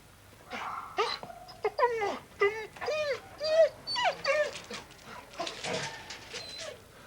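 Labrador dogs at kennels whimper and whine in a string of high, wavering cries and short yips, fairly close and continuous, with no people talking.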